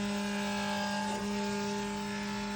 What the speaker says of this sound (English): Cutting a little micarta.